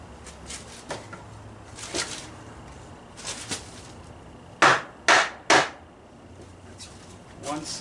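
A mallet drives a dowel into the face of a quick-release front vise on a workbench: three sharp, loud knocks in quick succession, after a few softer workshop clatters and shuffles.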